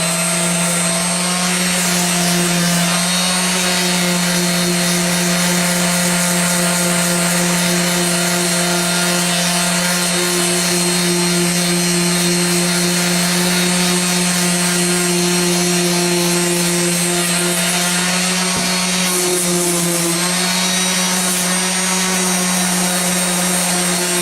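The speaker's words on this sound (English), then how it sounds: "we're going to go ahead and take the 80 grit and start sanding on to try to get it smooth" Steady abrasive rubbing of 80 grit sandpaper over dried Bondo body filler, continuous and close for the whole stretch with a strong constant hum underneath, no talking.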